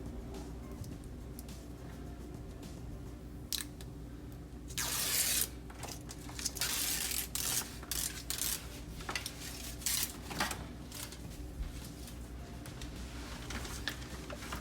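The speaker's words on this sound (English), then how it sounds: "let me rip the tape off this one" Adhesive tape ripped off a TV LED backlight strip: a short, sharp tearing burst mid-clip amid scattered handling clicks and rustles, fairly close, with no talking.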